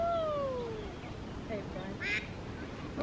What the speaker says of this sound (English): But look, they have ducks over here.